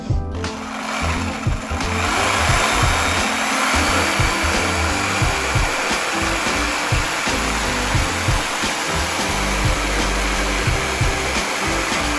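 A power saw cuts wooden tenons with a loud, constant whining roar that stays close and steady throughout, a faint rumble running underneath.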